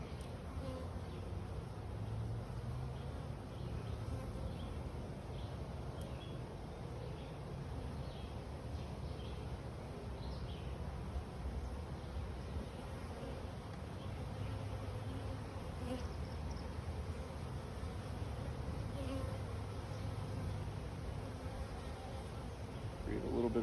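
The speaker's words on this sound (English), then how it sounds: "Lots of bees here." Honeybees from a newly caught swarm hum densely around an open hive, a continuous close buzzing that carries through the whole stretch, with occasional faint voices beneath it.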